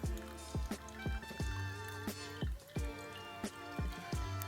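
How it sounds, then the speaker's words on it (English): Water poured from a kettle into a Hario Switch coffee brewer, giving a steady liquid stream broken by repeated soft dripping plops at a fairly even rhythm, close and clear with no talk. "Then we'll add the remaining water"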